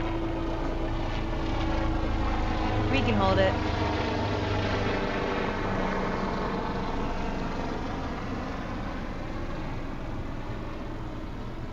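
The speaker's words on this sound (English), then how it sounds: "It's a lot of helicopters today." A loud, steady rotor and engine drone hangs overhead throughout, with a voice speaking briefly over it.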